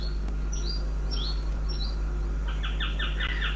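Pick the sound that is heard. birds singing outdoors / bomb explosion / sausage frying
birds singing outdoors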